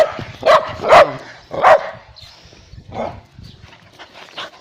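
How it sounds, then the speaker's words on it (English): A pet dog barks near the microphone, three loud sharp barks in quick succession followed by softer yips and whimpers. "with the dog."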